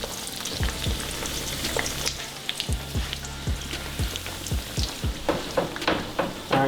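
A breaded chicken cutlet crackles and sizzles steadily in hot frying oil for chicken parmesan, with close, busy popping and a few sharper spits and taps as it cooks, no voices.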